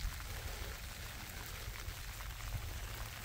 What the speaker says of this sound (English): come on, stop raining